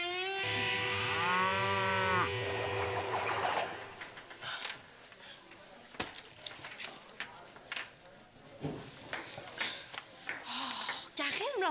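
A cow moos loudly and close at the start, a long harmonic bellow, and then people talk and the sound of an indoor scene follows in a French-language sitcom.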